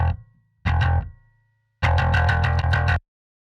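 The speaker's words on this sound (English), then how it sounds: "it compresses and distorts our top end." Heavily distorted, compressed musical notes ring out in bursts, the top end of the mix distorted, a gritty sustained tone, then a rapid string of buzzy plucked notes.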